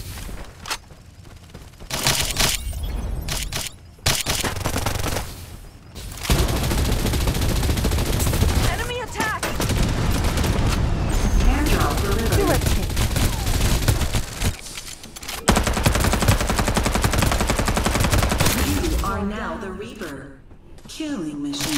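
Sustained bursts of automatic gunfire in the video game Farlight84 roar loud and close almost continuously, with brief pauses, while a voice talks over the shooting.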